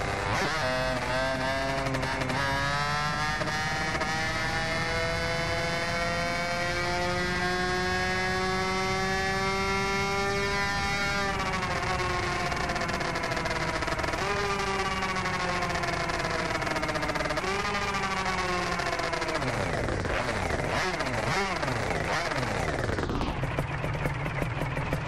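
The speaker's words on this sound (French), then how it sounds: "T'entends bien le pétillement et tout du moteur" A 1994 Yamaha TZR 125R two-stroke motorcycle engine idles with a steady, raspy drone and crackles, its pitch rising and falling through a few blips of the throttle before dropping back to a rough, settled idle.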